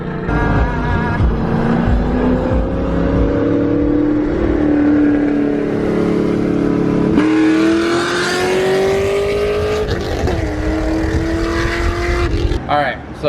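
A straight-piped widebody Corvette C6 roars as it drives, its loud engine note rising in pitch through revs and gear changes, close and continuous with voices underneath.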